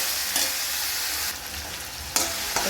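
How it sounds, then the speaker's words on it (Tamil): Tomatoes and onions sauté in a pan, a dense continuous sizzle with a few stirring scrapes and bumps, close up and steady, with no voices. "தக்காளி வெங்காயத்தோடு சேர்த்து நல்லா வதக்குங்க"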